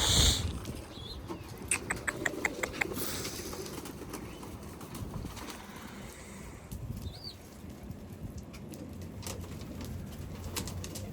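Damascene pigeons coo and rustle in a busy loft, with a quick run of sharp taps and flutters early on, and steady low bird murmuring throughout.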